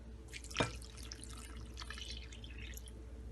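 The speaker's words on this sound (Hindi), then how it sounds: "पानी डालेंगे।" Water splashes as it is poured into a bowl of kadhi pakora batter, followed by a steady wet churn over a low background hum.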